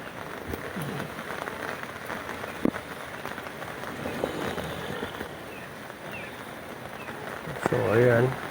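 Steady rain falls on a backyard vegetable garden with eggplant and chili plants, a continuous close patter of drops on leaves and surfaces with occasional heavier splashes, while a voice talks over it.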